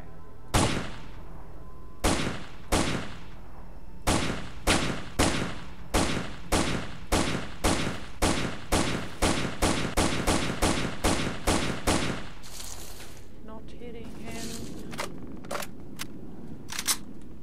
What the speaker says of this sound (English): Where they're shooting from.